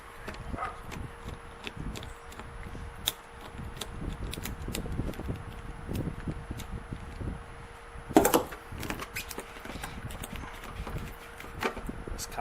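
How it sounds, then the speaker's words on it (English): Worm gear clamps on an old boat fuel hose being undone with a 10mm socket, then the hose pulled off: repeated close clicks, taps and scraping in an irregular rhythm, with a louder rattling burst partway through, no talk. "undo these worm gears, and I can remove this old hose"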